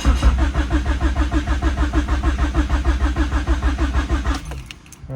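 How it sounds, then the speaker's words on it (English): A Honda D16 engine with a Speed Factory Savage cam cranks on the starter without firing, a steady rapid rhythmic churning that runs loud and close for over four seconds, then stops abruptly into near silence. "we're going to crank it to get some oil pressure"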